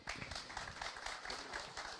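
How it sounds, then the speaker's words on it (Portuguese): Brief audience applause after a talk on soil recovery, a faint, distant patter of clapping hands lasting about two seconds. "eu queria então uma salva de palmas"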